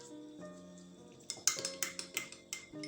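Red pigment is stirred into a homemade rose soap mixture, with a spoon or spatula clinking and scraping against the container in a quick series of close, light taps over a faint steady hum.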